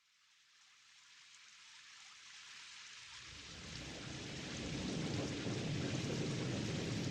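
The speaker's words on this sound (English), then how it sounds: "Rain." A rainstorm building from near silence into a steady, dense downpour, growing louder over several seconds into a full continuous roar of falling rain.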